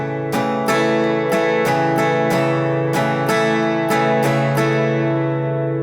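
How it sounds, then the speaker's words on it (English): An acoustic guitar is strummed in a repeating one-bar rhythm for a song, sustained chords ringing with about eight evenly spaced strokes and no voice over them. "So the strumming sounds like this."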